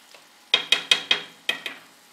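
A spoon stirs moussaka filling in a pan in about six quick, sharp scraping strokes spaced unevenly over a couple of seconds, close and fairly loud against a quiet background.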